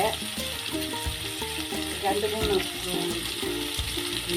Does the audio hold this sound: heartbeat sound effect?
no